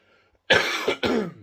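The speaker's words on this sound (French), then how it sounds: "je vais tousser une deuxième fois." Two loud, harsh coughs close to the mic, one right after the other, following a brief quiet moment.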